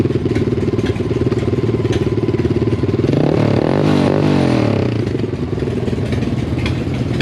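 A small Grom clone motorcycle engine runs loud and close, its steady idle rising into a rev in the middle and then settling back, with no voices over it.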